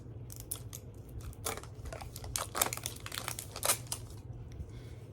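Plastic zipper packaging of a mini brands toy being pulled open nearby, a run of crinkling, tearing and ripping bursts with sharper snaps near the middle, heard alone without talk.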